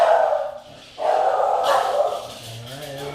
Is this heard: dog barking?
yes